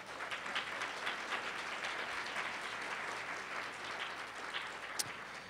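Round of applause for sponsors at a literary translation conference keynote, a large audience clapping steadily and evenly, fairly quiet and distant, sustained for over five seconds.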